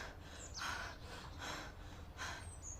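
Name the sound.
voice imitating a donkey panting for breath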